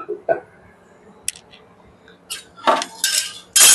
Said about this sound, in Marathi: पळी तेल घालते मी